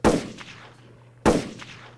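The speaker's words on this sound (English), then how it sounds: "We dangerous, followed by gunshots." Two sharp, loud gunshot bursts about a second apart, each a sudden crack that decays quickly, used as a sound effect on a podcast.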